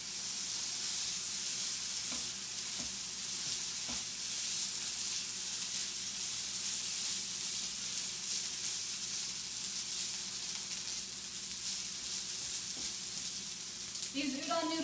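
Precooked udon noodles sizzle and fry steadily in a pan while okonomiyaki is made, a continuous close hiss with occasional stirring clatter.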